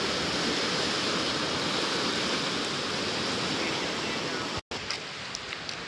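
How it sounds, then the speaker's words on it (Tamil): Water rushing steadily along a stream in Kerala, a dense continuous loud wash near the microphone that breaks off briefly just before the end. "தண்ணி எப்படி போகுது பாருங்க"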